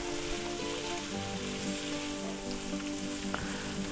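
Onions and peppers sizzle steadily in a hot pan, a close, continuous crackling hiss with a faint tonal hum underneath.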